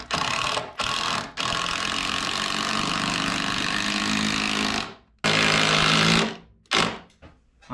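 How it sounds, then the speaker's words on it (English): A power drill drives screws into a cracked floor joist being sistered with a new board, its loud, close whirring coming in long bursts with short pauses between them. "So I'm just gonna put a bunch of screws in this"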